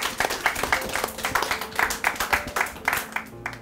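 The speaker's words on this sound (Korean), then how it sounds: "박수 부탁드립니다." Audience at a middle school library book festival in Chungju, Korea, clapping for a student participant; a moderate, fairly sparse patter of individual claps continues steadily with no speech over it.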